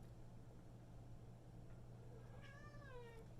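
A cat gives a drawn-out meow near the end, preceded by a faint short mew, over a steady low hum.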